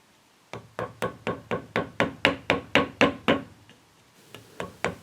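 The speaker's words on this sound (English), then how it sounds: "I'm coming in with my mallet and I'm driving the center of that thumb catch back to that stop cut" A run of about twelve sharp, evenly paced knocks as a mallet drives a wood-carving gouge into a flintlock rifle stock, close and clear, pausing briefly before three more strikes.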